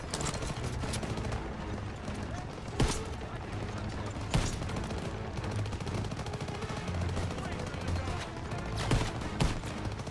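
Machine gun fire in the World War II shooter Call of Duty WWII, a dense continuous rattle of distant gunfire under battlefield rumble, punctuated by a few sharper, louder shots.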